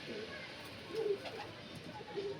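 Panjabi Malwai pigeons, a male and female pair, give short soft coos against a quiet background, with faint rustling.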